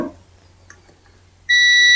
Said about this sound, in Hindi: देख लीजिए, ये बजर आ रहा है